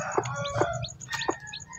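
A native brooding hen clucks in three short, separate calls spaced through the stretch, fairly close, with other birdsong and farmyard background around them.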